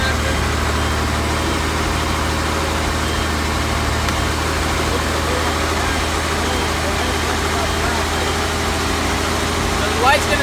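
A truck engine runs steadily at elevated revs to build up air brake pressure, a loud, continuous rumble with no breaks. People talk faintly over the engine.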